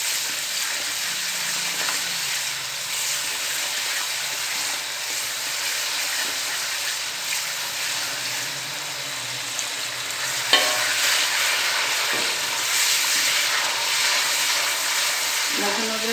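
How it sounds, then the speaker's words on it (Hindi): Garlic-ginger paste fries with onions in a pan for potato and radish pod curry, giving a steady, loud sizzle with occasional stirring scrapes and clinks, and no talking heard. "लहसुन अदरक के पेस्ट को अच्छी तरह भून लेते हैं।"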